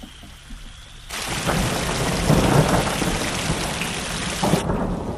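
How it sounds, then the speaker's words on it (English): Heavy rain pours down as a thunderstorm rolls in, a dense hiss of rain on surfaces with a low rumble of thunder swelling through the middle, loud and close, with no voices. "I'm just watching the storm."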